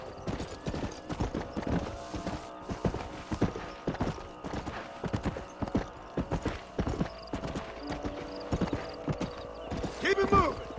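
Video game horses trotting in Red Dead Redemption: steady clip-clop of hooves at an even pace, with a brief whinny near the end and tonal background sounds throughout.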